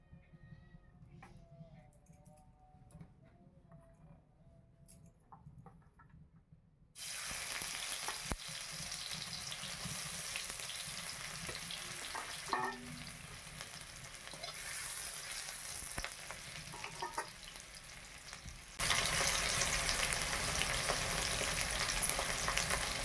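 An egg fries in a pan in a village kitchen, a loud constant sizzle that starts abruptly and grows louder near the end, with faint voices and a brief cat-like cry mixed in.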